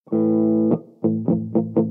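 Warm, distorted Gibson SG electric guitar on the neck pickup: one sustained chord rings, then a few rhythmic strums follow.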